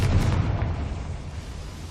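Confringo fire spell explosion from the video game Hogwarts Legacy: a loud, close boom with a heavy low rumble that slowly fades over about two seconds, with no talk.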